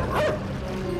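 A single short dog bark with a whining edge rings out in the video game INSIDE, close and fairly loud, with no talking.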